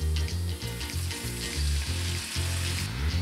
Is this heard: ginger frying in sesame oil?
yes